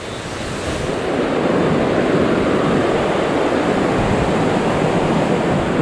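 A mountain stream in Hà Giang, Vietnam, rushes loudly and steadily, a dense continuous wash of water noise that swells slightly in the first second and then holds constant, close by, with no voices.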